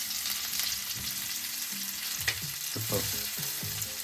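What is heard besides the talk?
mullet fish frying in a pan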